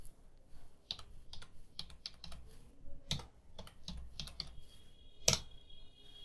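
Someone types a channel username on a computer keyboard: quiet, irregular keystroke clicks in short bursts with brief pauses, one sharper clack near the end.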